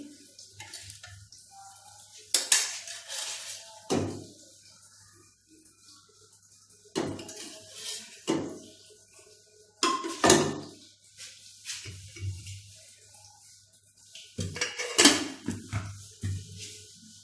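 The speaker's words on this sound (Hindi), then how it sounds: "अब मैं कढ़ाई के अंदर घी डालूंगी।" Ghee going into a kadhai for frying suji, heard as scattered metallic clinks and knocks of pan and utensils, a handful of sharp bursts spread through a quiet kitchen, with a faint sizzle here and there.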